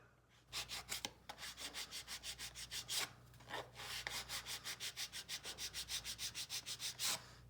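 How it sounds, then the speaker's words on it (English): Rapid back-and-forth hand sanding of styrene plastic, quick rasping strokes in a steady rhythm with a few brief pauses, close and fairly quiet. "A little sanding."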